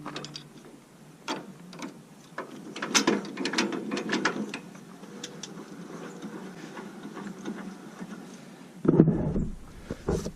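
The winch on a Kubota Z400 mower's maintenance lift kit is cranked by hand, giving a run of close ratcheting clicks and gear rattles, busier in the middle and ending in a louder burst.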